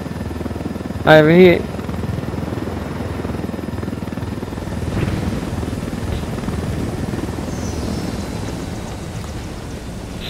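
A helicopter in the video game Ghost Recon Wildlands makes a steady, droning rotor rumble that runs throughout, with players talking over it.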